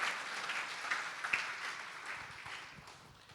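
Church congregation clapping hands together in worship, a steady wash of many palms that holds at a moderate level for a few seconds and slowly tapers off.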